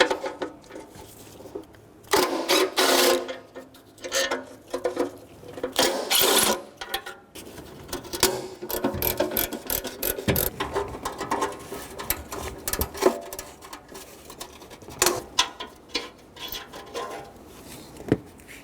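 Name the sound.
socket wrench undoing bolts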